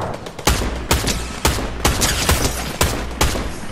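Video game gunfire in a battle royale-style match, a loud continuous burst of rapid rifle shots with heavier booming reports about every half second, dense and close with no pauses.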